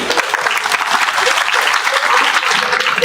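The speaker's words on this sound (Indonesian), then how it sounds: "Luar biasa, tepuk tangan untuk Ajoy." An audience at a sholawat gathering applauds loudly and continuously, a dense, even clatter of many hands that fills the whole stretch.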